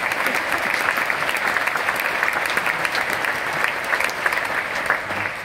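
An audience applauds an award winner on stage at a Slovenian ceremony, with steady, dense clapping from a sizable crowd that carries on evenly throughout and has no talking over it.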